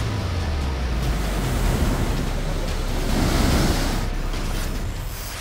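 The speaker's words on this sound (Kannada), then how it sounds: "ತುಂಗಭದ್ರಾ ನದಿಯ ಎಲ್ಲಾ ಗೇಟ್ಗಳನ್ನು ತೆಗೆದು ನೀರನ್ನ ಹೊರಬಿಟ್ಟಿದ್ದಾರೆ" Water pours out through the open gates of the Tungabhadra dam in a loud, continuous broadband roar, with wind buffeting the microphone and the roar swelling slightly near the middle.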